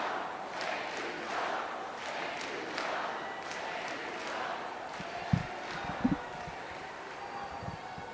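Rally crowd in Detroit chanting in unison, distant and faint with rhythmic repeated phrases swelling over a washy crowd roar, a few thumps near the end.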